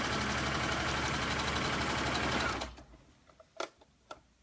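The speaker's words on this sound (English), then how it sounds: "Don't try to sew super fast unless you're comfortable." A sewing machine stitches a skirt hem in a fast, even mechanical whir for a few seconds, then stops abruptly, followed by a couple of faint clicks and handling noises.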